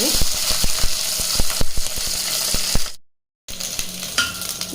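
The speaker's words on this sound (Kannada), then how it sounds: "ಬದನೆಕಾಯಿ ಎಲ್ಲ ಫ್ರೈ ಆಗ್ತಾ ಇರಲಿ" Brinjal frying in a pan, a loud close sizzle broken by a rapid series of spatula knocks and scrapes, then a brief cut to silence before the sizzle and stirring resume.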